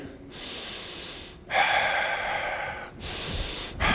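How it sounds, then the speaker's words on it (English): A storyteller performs a deep breath during a spoken tale, giving a few long, airy, close breath sounds, with a sharper, stronger intake in the middle and brief pauses between them, and no talking. "breathes in real deep"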